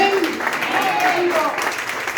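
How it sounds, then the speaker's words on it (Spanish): A church congregation celebrating an anniversary applauds loudly, dense sustained clapping filling the room with voices calling out over it. "démonos un fuerte aplauso nosotros también, hermanos, porque estamos de aniversario."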